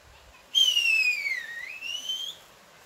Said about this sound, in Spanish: No, un silbador.